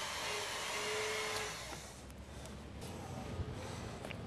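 A hydraulic torque wrench building pressure on a bolt, a steady, whining mechanical hum that holds loud for over a second, then drops to a softer hiss with faint clicks.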